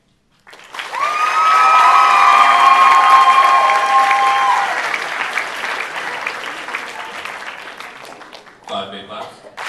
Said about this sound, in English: 5 big claps.